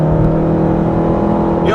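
A 2014 Nissan Versa Note with a CVT accelerating, its engine holding a steady, droning hum at nearly constant pitch, loud and close from inside the cabin, with a brief rising whoosh right at the end.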